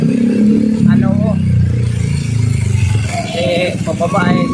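A motorcycle rides downhill over a bumpy, potholed road, its engine humming and rising steadily close by while people talk over the noise throughout.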